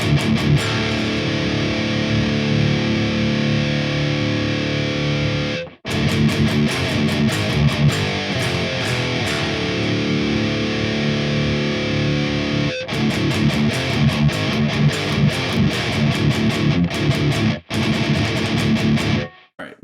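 Heavily distorted electric guitar played through the Audio Assault BLACKSUN amp simulator with boosted bass, thick sustained chugging chords and riffs, loud and continuous with two brief stops between phrases.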